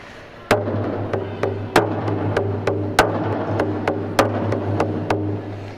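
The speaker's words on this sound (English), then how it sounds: "And this drum beat sounds like this." A steady, booming Native American style drum beat with one strong accented hit followed by lighter strokes, repeating in an even pattern over a low resonant hum.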